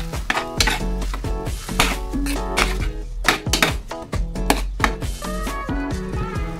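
A utensil stirs ground pork menudo in a pan, making loud, rapid, irregular metallic clanks and scrapes close up, with no voices.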